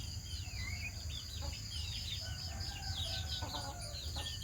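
Chickens cluck and chatter softly in a village yard in the morning, with a rooster-like call among them, all fairly faint over steady outdoor background noise.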